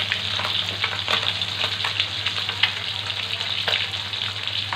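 Kra sub fish, freshly caught, frying in hot oil: a loud, continuous crackling sizzle with scattered sharp pops and spatters throughout, close and alone.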